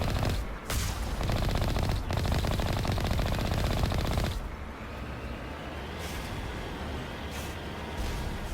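Rapid turret gunfire in Mass Effect 1 rattles in dense bursts for about four seconds, then drops to a lower mechanical rumble with scattered faint shots, moderately quiet overall.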